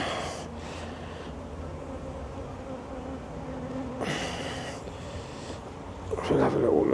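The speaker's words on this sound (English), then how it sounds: "The bees are very busy at the moment." Honey bees buzz around an open hive during a spring inspection, a steady drone under occasional quiet speech, with a louder burst of buzzing near the end.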